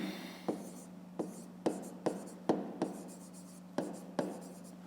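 A pen or pencil writes out a fifth-grade math solution by hand, making a series of quick scratchy strokes in a fairly even rhythm, close up and with no voices.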